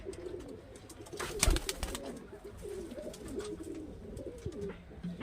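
A male Murshidabadi Giribaz pigeon coos softly and steadily at close range, with a brief burst of wing flutter or clatter partway through.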